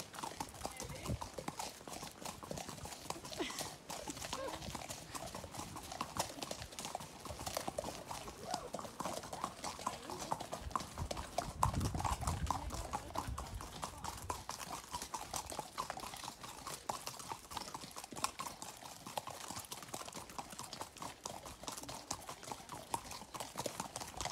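A ridden horse named Dolly clip-clops steadily at a walk in a stable yard. The hoofbeats are faint and continuous, and voices talk now and then underneath.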